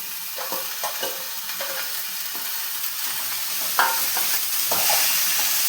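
Jackfruit seeds and onion sizzle in a pan while a spoon scrapes and stirs in repeated short strokes, close and fairly loud over a constant frying hiss, with no talking.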